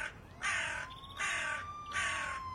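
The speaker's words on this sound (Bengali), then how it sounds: "একটা দাঁড় কাক এসে বসেছে। ডেকে ডেকে কান ঝালাপালা করে দিল।" Three loud harsh caws from a large crow or raven perched on a tree branch, evenly spaced and close, each call lasting about half a second over a steady faint tone and low background hum.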